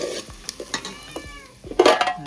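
Chicken for a dry chicken dish sizzles in hot spiced tempering oil while a utensil scrapes and stirs it, with a louder hissing burst near the end.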